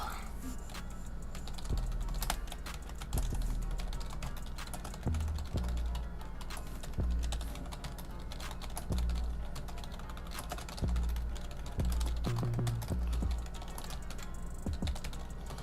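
Steady typing on a computer keyboard, with close, rapid key clicks and occasional heavier thumps running throughout the clip with no speech over it.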